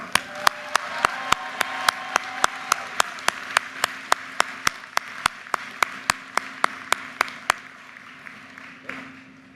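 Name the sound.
audience applause at a university commencement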